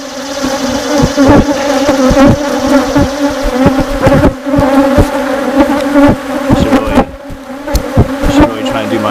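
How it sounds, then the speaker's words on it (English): Honeybees swarm around a very busy hive, a loud close buzzing drone with individual bees zipping past the listener and occasional bumps and knocks. "this hive is insanely busy"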